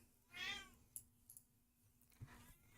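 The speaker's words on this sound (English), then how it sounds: "Oh, my cat is meowing." A domestic cat gives one soft, drawn-out meow at a distance, followed by faint rustles and small clicks in a quiet room.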